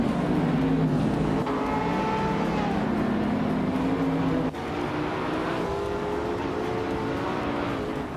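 A race car, including a 2015 Dodge Challenger Hellcat, drives with a steady engine drone, its tone shifting midway as if passing or shifting gear, loud and continuous throughout.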